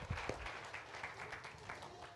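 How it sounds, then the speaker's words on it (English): Audience applause for a children's choir at a Christmas church service, a brief, moderately quiet burst of clapping from a crowd with a few louder claps near the start. "Applause to all the young people in the choir."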